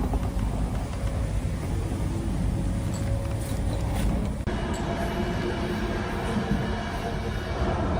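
A steady, heavy rumble and rattle of a moving train, heard from inside the carriage, continuous throughout.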